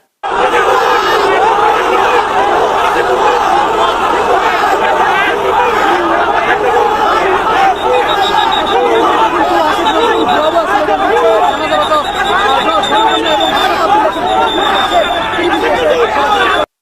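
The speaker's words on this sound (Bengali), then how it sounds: "কোথাও গেলে পাবলিক আটকায় ফেলে, ভুয়া ভুয়া স্লোগান দেয়।" Large protest crowd chanting 'bhuya bhuya' slogans, a loud, dense, continuous mass of rhythmic shouting voices with overlapping chatter throughout.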